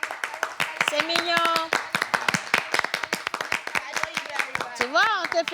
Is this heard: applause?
yes